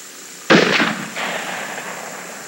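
.308 rifle firing a single sharp shot with heavy muzzle blast, a loud close crack followed by a lingering echo, no talk.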